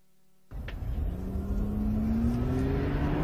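A car starts abruptly after a short silence and runs at about 80 km/h through a collision avoidance test on a track, with a steady engine rumble and a rising whine that builds as it passes close by.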